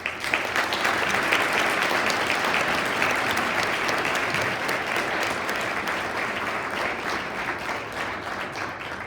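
A seated audience at a talk applauds to welcome a speaker, steady sustained clapping from many hands that slowly tapers off.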